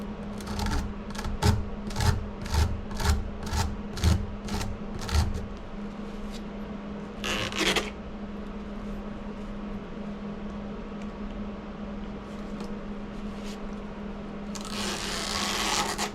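Dirt being scraped downward out of clogged AC condenser fins, a rapid series of rasping strokes at first, then a steady hum with an occasional scrape and a brief burst of rough scraping near the end.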